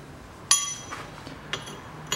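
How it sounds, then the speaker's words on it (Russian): A metal screwdriver pushed into the vent of a front brake disc on a 1993 Mitsubishi RVR, giving three brief metallic clinks, the first ringing slightly, in a quiet setting. "Снизу вентиляцию, металлическую отвертку вставляю."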